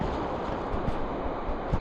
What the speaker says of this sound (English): Going through a little bit of a rapid pool here. Gotta hit the waves nose on.